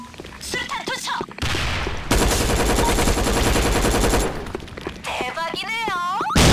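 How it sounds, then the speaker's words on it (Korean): Video game gunfire from Sudden Attack, with dense rapid automatic bursts sustained at high volume through most of the stretch, a thudding grenade blast among them, and a voice speaking near the start and again at the end. "수류탄 투척!"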